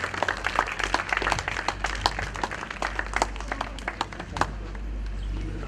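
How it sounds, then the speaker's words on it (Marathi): An audience claps for an orchestra of blind performers at a Diwali dawn concert: dense, steady applause with many sharp individual claps runs the whole time, fairly close and loud, with a constant low hum underneath. "आणि या संपूर्ण वाद्यवृंदासाठी एकदा जोरदार टाळ्या वाजवायच्या"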